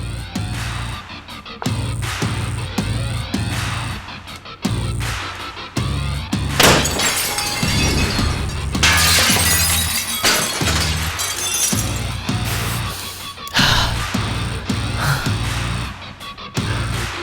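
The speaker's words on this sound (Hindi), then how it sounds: "अब शीशा तोड़ने वाला हूं मैं" Glass is smashed in a series of loud, sharp shattering crashes separated by short pauses, with scattered shards clinking and settling in between.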